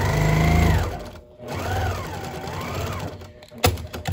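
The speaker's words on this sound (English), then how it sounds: "I will come back to my sewing machine." A sewing machine stitches a store-bought quilt placemat with a loud, steady motor whir and rhythmic needle hum in two runs, a brief pause between, then a sharp thunk near the end.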